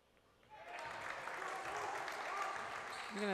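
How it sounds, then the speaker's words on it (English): Crowd clapping in a high school boys basketball gym after a made free throw, a steady wash of applause rising from a quiet start, with a voice faintly under it. "You can assume from the clapping that that one went in."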